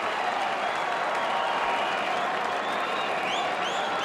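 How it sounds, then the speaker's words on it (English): Steady, dense applause from a large crowd at a cricket match cheering a batting shot, continuous and fairly loud throughout, with faint whistles near the end. "The crowd are loving it."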